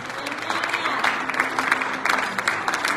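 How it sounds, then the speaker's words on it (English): Church congregation at New Testament Holiness Church in Neosho, Missouri clapping during a Saturday night service. A steady crowd applause runs throughout, with some sharper claps standing out and voices calling faintly underneath. "Come on, give Jesus a good hand clap."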